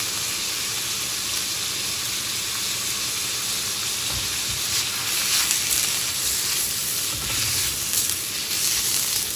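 Butter sizzling in a hot pan while shrimp scampi is cooked, a steady, loud broadband hiss and crackle that runs throughout with slight swells and no talking.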